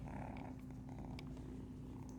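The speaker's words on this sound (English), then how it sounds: "That's a big purr, buddy." A kitten purrs loudly and steadily up close, a continuous low rumbling hum with faint rustling on top, no voices.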